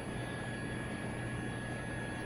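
Simulated Eurocopter EC135 helicopter engine and rotor in FlightGear, a steady loud broadband drone with a low throb and a thin high whine, continuous and unchanging throughout, with no voices.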